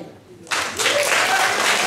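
Audience applause at a mayoral candidates forum in a hall, bursting in suddenly after a quiet moment and swelling into steady, loud clapping from a crowd.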